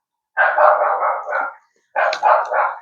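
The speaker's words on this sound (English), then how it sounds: "Sorry, my dog." A dog barks in two close, loud bursts of rapid yapping separated by a short pause, heard alone with no talk over it.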